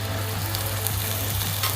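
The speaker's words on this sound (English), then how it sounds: "We sear our steak on both sides." A sous vide steak sears in a hot pan, giving a strong, continuous close-up sizzle with a low hum beneath and occasional crackles, no talking.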